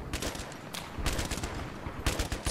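USAS-12 automatic shotgun firing FRAG rounds in Battlefield 3, several rapid bursts of heavy shots with explosive cracks, loud and close, separated by short pauses, with no talking.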